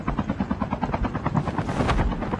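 A video game helicopter's rotor thumps rapidly and steadily in Call of Duty: Mobile, loud and close, with a whining engine tone and no talking.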